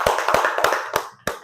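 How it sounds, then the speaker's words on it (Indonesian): A short round of scattered classroom applause for a student group, a handful of sharp claps that thin out and stop within a second and a half. "Tepuk tangan buat kelompok B dulu."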